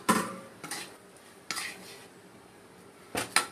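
A utensil stirs torn chapati pieces with fried egg in a pan, making a few sharp metallic clinks and scrapes at uneven intervals, close up with quiet gaps between them.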